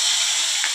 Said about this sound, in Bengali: এবার এই তেলের মধ্যে দিয়ে দিয়েছি গোটা গরম মশলা ফোড়ন, আর দিয়ে দেবো হচ্ছে একটা তেজপাতা ফোড়ন